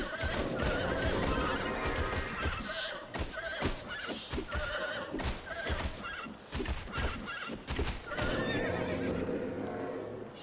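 A horse in The Bard's Tale video game neighs and whinnies loudly and repeatedly over hoof clip-clops, close up, with no talk.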